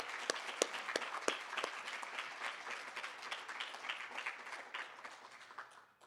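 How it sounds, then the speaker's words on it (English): An audience at the Amherst College undergraduate awards ceremony applauds, a soft but dense patter of many hands with a few sharper individual claps at the start, steady and fairly distant throughout. "So let's give Leah a round of applause."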